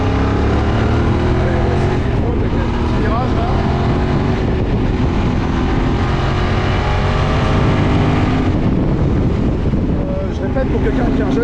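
A QJMotor SRT 600 SX motorcycle from 2025, restricted for A2 licence riders, drones steadily while being ridden on the road, a loud continuous engine hum with shifting pitch and wind rush close to the microphone.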